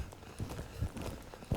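A ridden horse moves forward on the ground during a horsemanship lesson, with three or four soft, evenly spaced hoof thuds, faint against a light background hiss.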